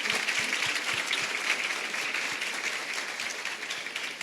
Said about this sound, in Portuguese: Salva de palmas, né? Apesar de tudo.